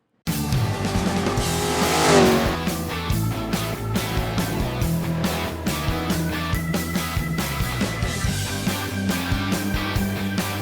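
A Ford GT40 race car, the low car built to win Le Mans, drives past with a loud continuous engine roar. Gear changes and revving rise and fall across the run, with a brief surge near the start and no talk.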